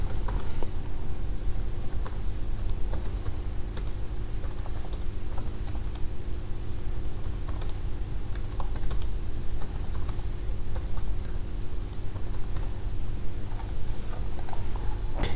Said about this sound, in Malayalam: ഇനി എനിക്ക് വിവിധ മാസങ്ങളുടെ പേരുകൾ എനിക്കിവിടെ ടൈപ്പ് ചെയ്യാൻ കഴിയുന്നതായിരിക്കും